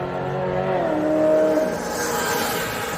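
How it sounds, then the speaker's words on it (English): Cars pass at night on a downtown Byron Center, Michigan street, one engine rising and falling in pitch as it goes by, steady and fairly close over a continuous road rumble. "it's a lot of traffic out tonight"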